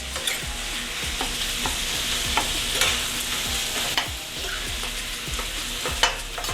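Bourbon-infused ground beef sizzles steadily in a pan, with repeated close scraping strokes of a spatula stirring the meat at an even pace.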